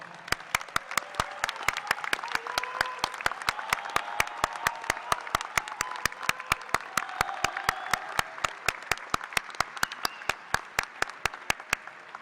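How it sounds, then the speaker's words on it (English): Graduating engineering students at a university spring commencement applaud their loved ones, a broad crowd clapping steadily for about twelve seconds, dense and continuous, punctuated by sharp regular clicks cutting through it. "join me in giving your loved ones a big and well-deserved round of applause"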